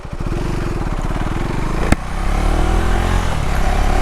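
A 2026 KTM Duke 390 single-cylinder motorcycle engine running in track mode, a loud close throbbing idle that is blipped with a sharp crack near the midpoint, then settles into a steadier, rising drone.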